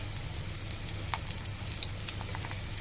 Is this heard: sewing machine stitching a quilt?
no